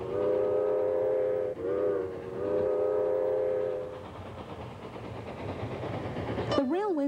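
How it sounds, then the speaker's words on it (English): A steam train whistle sounds long and loud for about four seconds with a brief break, then fades into rumbling railway noise, during the building of the railway to Vancouver. "It was the sound of a whistle."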